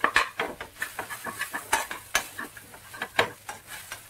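Sabudana khichdi with squeezed lemon juice being stirred in a pan, a run of close, regular scraping and clinking strokes over a faint sizzle.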